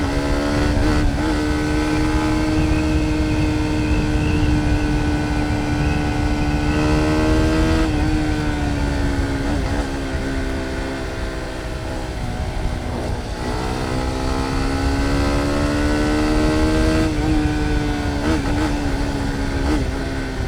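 Cheap $500 motorcycle engine revving hard near the rev limiter, a loud continuous buzzing roar with pitch that rises and falls in waves throughout, close and unbroken.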